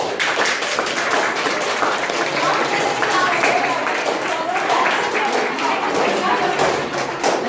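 Steady applause for the third-place finisher at a shadow elections award ceremony, dense clapping from a room of people continuing evenly throughout, with talk mixed in.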